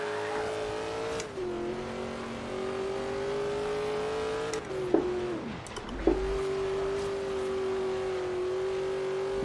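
AMC Rebel 'The Machine' in Forza Horizon 3 holding a steady engine drone near full throttle, its pitch dipping and then climbing again around a couple of gear changes, close and continuous with no talk.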